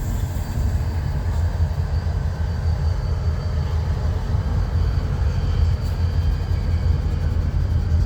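Red RJ Corman locomotives switching in a BNSF rail yard give off a steady, heavy low rumble of idling diesel engines and moving rail cars, loud and continuous throughout.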